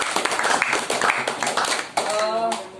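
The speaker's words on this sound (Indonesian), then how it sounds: "tepuk tangan untuk kalian semua" Students in a classroom clap together in a dense burst of hand claps, with people talking over and after it as the clapping fades.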